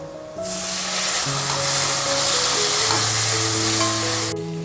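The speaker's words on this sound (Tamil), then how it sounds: "வெங்காய தக்காளி ரொம்ப நல்லா வதங்கி வரணும்" Chopped onions and tomatoes sizzling and frying in oil in a pan for an avarakkai dish, a loud, steady hiss that starts abruptly, holds evenly and then cuts off, with no talking.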